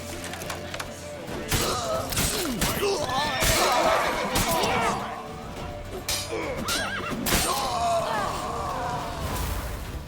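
Horses neigh and whinny loudly amid clattering hooves and thuds in the video game The Witcher 3, with shouting voices mixed into the busy, chaotic scene.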